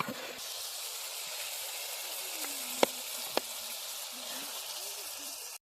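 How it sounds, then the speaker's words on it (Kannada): Onion, tomato and chili frying in a pan, a steady soft sizzle and hiss that holds evenly before cutting off abruptly, with a couple of faint clinks. "ಈಗ ಇಷ್ಟು ಅಂದ ಮಾಡಿ ಫ್ರೈ ಆಗಲಿ"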